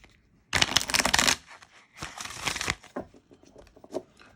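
A tarot deck being shuffled up close, a dense crisp riffle of cards followed by a second shorter burst, then a few light taps as the deck is handled.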